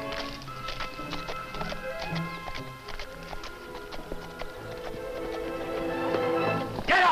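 Steady clip-clopping hooves draw nearer over a busy background of music and scattered knocks, growing louder toward the end.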